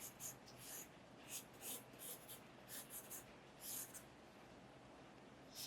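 Pencil scratching across a Graphic 45 scrapbook paper sheet, marking spots for tearing on a Halloween layout; a series of short, close strokes in irregular bursts over a quiet background.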